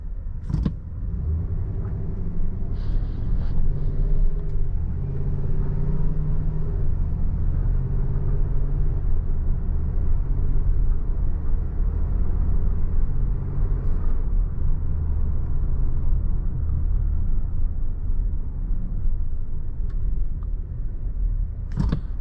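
A 2023 Chevrolet Suburban Premier drives on the road, heard from the cabin as a steady, loud low rumble of tire and road noise with a few faint clicks and thumps and no talking.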